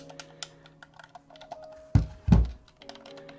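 Buttons on a Dinosoo wireless game controller click in a quick, uneven run of small, close taps, broken by two heavier thumps near the end.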